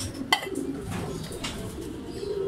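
A racing pigeon coos softly on arrival at its loft after a first-lap race, a brief low call amid faint bird rustling and a sharp click near the start.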